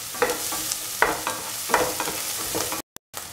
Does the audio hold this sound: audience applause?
no